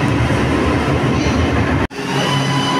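Milan metro subway train pulling into an underground platform, a loud continuous rush and rattle of wheels and cars with a brief dropout near the end before the roar resumes.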